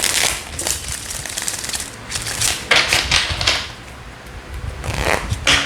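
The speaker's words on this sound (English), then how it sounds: "I'm gonna give this 2 more shuffles." Tarot card deck being shuffled, with rapid, crisp riffling bursts coming in several close, loud waves and short pauses between them.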